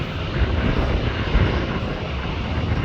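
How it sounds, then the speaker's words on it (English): A propeller-driven private plane at Manchester Airport gives a steady, fairly loud engine drone throughout, a continuous broadband roar with low rumble and no talking. "Propeller private jet."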